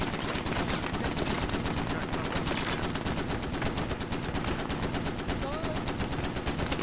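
Sustained automatic gunfire in the military shooter Squad, a rapid, steady rattle of shots with no break that stays loud and dense throughout, with faint voices beneath it.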